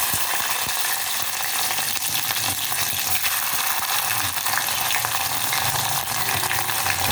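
Small shallots and green chillies frying in oil in a pan for a tamarind-style kuzhambu, a dense, loud, unbroken sizzle throughout with faint stirring clicks and no voices.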